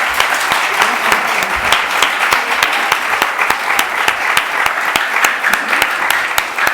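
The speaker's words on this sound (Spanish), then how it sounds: "Aplausos." An audience applauds at the close of a panel session on freedom of expression at La Madraza: steady, full clapping with crisp individual claps throughout and no talk.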